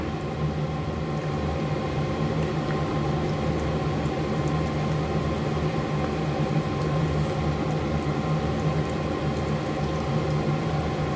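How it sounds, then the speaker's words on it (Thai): Banana wrapped in a spring roll sheet deep-frying in hot oil, a steady, dense bubbling and crackle that holds evenly throughout with no voices over it. "ทอดจนกว่าจะได้ที่นะคะ"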